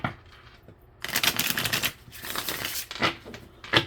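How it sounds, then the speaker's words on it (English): Tarot cards riffle and snap in a few quick bursts with short pauses between, close by, and no one speaks. "Last shuffle here."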